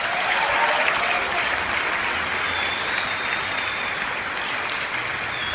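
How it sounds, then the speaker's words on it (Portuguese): An audience at a Catholic talk applauds steadily, a dense even wash of clapping at moderate loudness with no voices over it. "Pode aplaudir."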